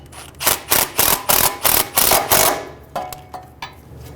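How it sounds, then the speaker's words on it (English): Ratchet tightening the ABS bracket bolt on the strut of a 2003-2008 Honda Pilot during a front CV axle job: a close run of about eight quick clicking strokes, followed by several slower, fainter clicks. "Snug the bolt down."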